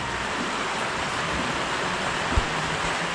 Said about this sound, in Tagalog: Natulo ang ulan.